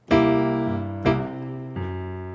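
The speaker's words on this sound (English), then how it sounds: "You can also put the ghost note on the and of beat 2," Piano playing a chord pattern with a soft ghost note slipped in on the off-beat after beat two, three struck chords ringing out clearly and alone.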